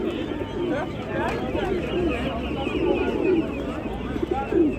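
Pigeons coo in low, repeated warbling phrases from cages at a bird market in Ganja, Azerbaijan, with busy background chatter and voices filling the space around them.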